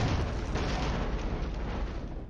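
Dense, sustained rumble of mortar explosions in a wargame battle, with heavy booms blending into a continuous loud roar for the whole span and no voices over it.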